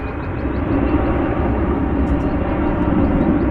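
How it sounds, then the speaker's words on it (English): An American Airlines Airbus A321 jet roars in a steady, loud, broad rumble at an airport, continuous and unbroken throughout. "And you hear the roar of the next plane."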